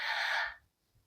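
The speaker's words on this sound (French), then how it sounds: "avec la bouche, vous allez gonfler le ventre en inspirant" One deep breath drawn in through the mouth to fill the belly, a short breathy rush of air about half a second long, close and soft, then quiet.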